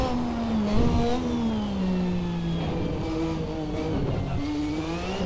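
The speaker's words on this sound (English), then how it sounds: "At low revs, you just crack the throttle on and you get a nice bark out of that engine behind us" A Lotus 98T twin-turbo Formula 1 car's engine revs at low speed nearby, a loud, sustained rasping drone whose pitch dips and rises with short throttle blips, heard alone without talk.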